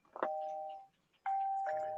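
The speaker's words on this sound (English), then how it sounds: "We got the doorbell, don't we?" A doorbell rings with two sustained electronic ding-dong chimes, each a clear steady tone. The chimes are close and loud and separated by a brief pause, with a faint knock-like thump near the start and end.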